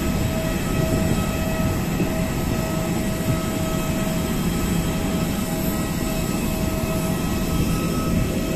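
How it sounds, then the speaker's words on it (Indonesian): An Airbus A320 airliner of Batik Air flying from Jakarta to Semarang gives a loud, steady roar of jet engines heard inside the cabin, an unbroken broadband drone with a faint whine and no talking. "Kali ini menggunakan pesawat dengan tipe Airbus A320,"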